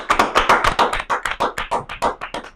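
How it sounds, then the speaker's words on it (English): An audience claps together at a school show, giving about a dozen sharp, evenly spaced claps close by with no talking over them. "Why y'all clapping off beat?"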